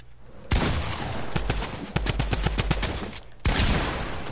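Rapid automatic gunfire in Fortnite, a dense burst of closely spaced shots, loud and near, then a short pause and another burst.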